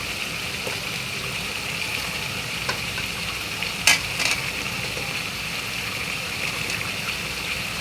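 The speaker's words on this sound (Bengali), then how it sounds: "মাংসটা কষাই নিতেছি।" Meat stir-fried (kosha) in a pan, giving a steady, continuous sizzle with a brief clatter of a utensil midway, and no voices.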